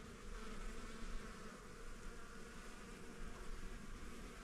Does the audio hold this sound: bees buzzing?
yes